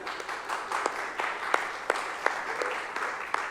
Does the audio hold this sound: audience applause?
yes